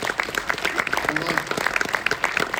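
Audience applause with clapping spread across the whole moment, laid under a voice speaking over it at a steady level.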